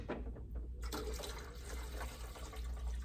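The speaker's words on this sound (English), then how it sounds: "I accidentally turned on our eye wash station, my bad." Water runs steadily from an eye wash station in a school lab, a continuous gushing splash close by with no talk.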